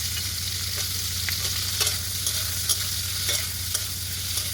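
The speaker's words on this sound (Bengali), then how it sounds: "এখানে আমি ক্যাপসিকাম আর পেঁয়াজগুলো একটু হালকা করে ভেজে নেব" Capsicum and onions sizzle and fry in a wok, a dense steady hiss broken by repeated sharp scraping stirs at irregular intervals, close and fairly loud with no talking.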